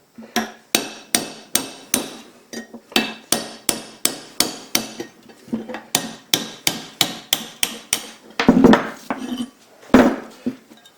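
Roughly twenty sharp metallic hammer blows ring out close by as a shop-made tool drives bushings from an old grinding arbor. They fall in a steady rhythm with short pauses, then two heavier clanking hits.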